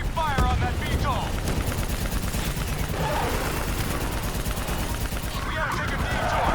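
Heavy, continuous automatic gunfire in a Call of Duty: Black Ops III campaign battle. Dense, rapid bursts and explosions overlap with shouted voices.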